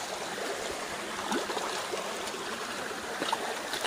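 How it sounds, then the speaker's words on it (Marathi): Water spilling from a small waterfall at Lonar Lake makes a soft, even trickling and gurgling, faint and continuous with no voices. "इथं पाणी पडायला लागले धबधब्यामधून"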